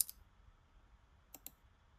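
Mouse click sound effect in CapCut: a sharp click at the start, then a quick double click after a short pause, faint and isolated against near silence.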